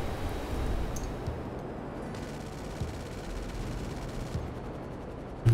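Rapid gunfire from the F-160 Raiju aircraft in a video game, a continuous rumbling burst of shots running several seconds under engine and wind noise, ending with a sharp closer blast.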